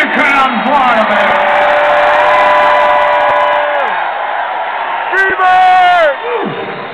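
A concert crowd in Fort Myers, Florida cheers loudly, with sustained whoops and high-pitched yells over a thick roar that swells again near the end.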